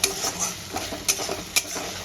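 Bhetki fish paturi masala being sautéed in a kadai with salt, turmeric and Kashmiri red chilli powder: a soft continuous sizzle broken by a few sharp scrapes of the stirring spoon against the pan.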